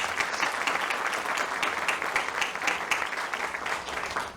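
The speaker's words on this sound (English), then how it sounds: "Join me in giving her a round of applause." Audience applause at a Head Start ribbon cutting ceremony at 950 Broadway, a dense, steady wash of many hands clapping throughout, fairly close and loud, with no speech over it.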